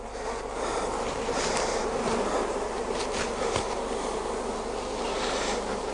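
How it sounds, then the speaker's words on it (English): Honeybees buzz continuously around an open Langstroth hive during an inspection, a soft, steady hum with occasional closer drones as individual bees fly past, with no talking. "Try not to get too many bees in the process."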